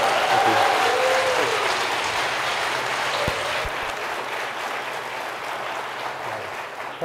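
An audience applauds steadily for a speaker being introduced at a technology talk, with dense clapping that holds loud for the whole stretch and eases only slightly toward the end, with no voices heard over it.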